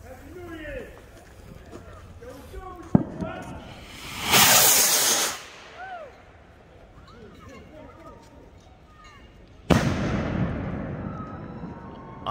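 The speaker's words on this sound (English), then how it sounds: "Rockets." New Year fireworks rockets launch with loud, rushing hisses, one near the middle and another toward the end, after a single sharp crack; voices and background chatter run underneath.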